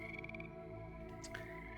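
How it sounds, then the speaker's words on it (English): Mangrove swamp ambience with a steady, close chorus of frogs and insect trills, dense layered calls repeating evenly throughout with no voices. "While there's frogs and crickets and whatever swamp goodiness. It's a mangrove swamp ambient sounds."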